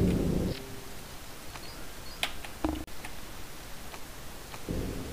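A thunderstorm rolls through the dinosaur-park video game Jurassic Park Operation Genesis, with broad bursts of rumbling storm noise at the start and end and scattered sharp ticks and clicks in between.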